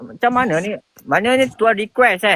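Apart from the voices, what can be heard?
No everyday noise stands out behind the speech.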